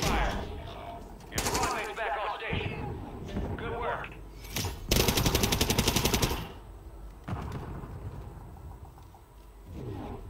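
Bursts of gunfire in a Call of Duty Warzone match, with a rapid automatic volley in the middle and scattered shots around it, loud and close, mixed with game voices and talk.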